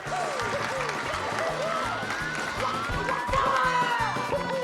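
A live crowd at the SGDQ 2022 speedrun event cheers and claps during a Super Mario 64 run, a dense sustained roar that swells near the end, with voices shouting over it.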